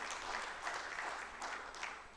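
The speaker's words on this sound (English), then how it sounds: "Please help me clap for her." Event audience at a strategy launch and storytelling gathering claps for an honoured guest, producing a continuous, moderately loud wash of applause with slight swells throughout.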